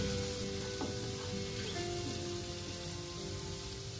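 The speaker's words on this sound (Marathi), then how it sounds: "मसाला आहे मिरची आणि लसूणचा तो फ्राय करून घ्यायचा आहे" Chili and garlic masala frying in a pan, a faint, even crackling sizzle like light rain, steady and close with soft background hum and no speech.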